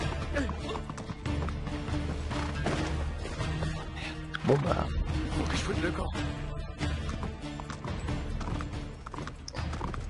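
Rhythmic clip-clop of horse hooves with occasional neighing from the video game Uncharted, running steadily beneath brief male speech and game background sounds.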